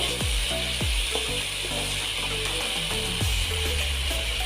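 Potatoes fry in a pan while being stirred, with a few sharp metallic scrapes and clanks of the spatula over a steady background hiss, close and fairly loud, no voices.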